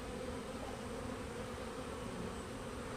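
A large swarm of honey bees gives off a constant, thick droning buzz that fills the air evenly from start to finish, close and loud with no break.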